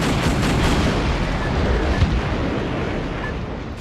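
Paintball gunfire in the video game Metal Wolf Chaos XD comes as a dense, continuous barrage of rapid shots, loud and close, with no voices over it.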